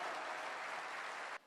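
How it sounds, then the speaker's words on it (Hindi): Dense audience applause at a religious discourse, steady and full for over a second before cutting off abruptly. "ताली बजाओ बेटियों के माँ बाप"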